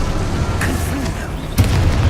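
Confringo fire blast spell in the Hogwarts Legacy video game, heard as a low rumbling burst with a second, sharper explosive hit near the end, close and fairly loud, with no voices.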